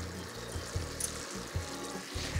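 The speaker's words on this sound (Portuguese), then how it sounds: "Então aqui o caramelo continua fervendo" Caramel bubbles and sizzles in a pan on the stove in a cooking-school kitchen, a soft continuous frothy crackle with low intermittent thumps, faint and fairly close, with no talking.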